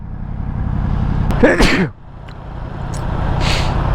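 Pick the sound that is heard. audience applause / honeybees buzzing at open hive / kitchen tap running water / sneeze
sneeze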